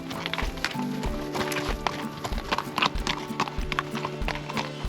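Horse hooves clip-clopping on a mountain trail in the Alps during a ride through the Beaufortain, a close, regular walking rhythm of sharp hoof strikes, with faint background sounds and no talk.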